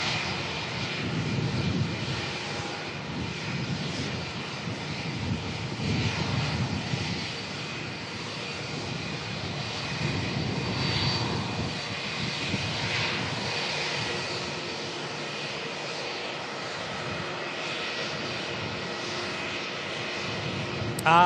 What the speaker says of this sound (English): That noise of that Jetstar in behind us there